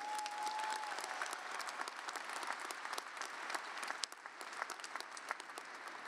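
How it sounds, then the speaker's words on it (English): Commencement audience at John Jay College gives a round of applause, dense distant clapping continuing for several seconds, fairly quiet and even with no talk. "Let's have a round of applause for them."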